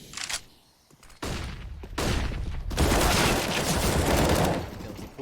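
AK rifle fire in a Counter-Strike pro match, with several loud bursts and sustained automatic volleys close up, a brief gap between shots, then a long continuous stretch of rapid gunfire.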